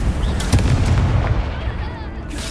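An Incendio fire spell cast in Hogwarts Legacy, a loud booming fiery blast with rumbling crackle that fades over about two seconds, close and heavy, followed by a brief burst at the end.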